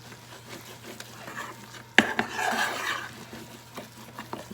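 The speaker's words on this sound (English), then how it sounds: "I'm gonna stir this." Flour and salt are stirred in a pan to start a gravy, with a sharp utensil knock followed by soft scraping and rustling strokes, close and fairly quiet, with no talk.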